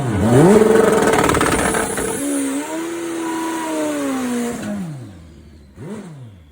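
A turbocharged, alcohol-fuelled Kawasaki Z1-based drag bike engine revs loudly up close, rising and falling through several sharp throttle blips before settling into a wavering high idle and a final quick rev.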